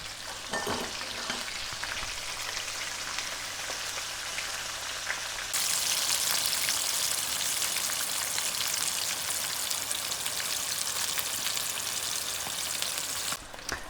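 Salt and pepper prawns deep frying in hot oil on a second fry, a dense steady crackling sizzle close by that grows louder and brighter midway and then cuts off near the end.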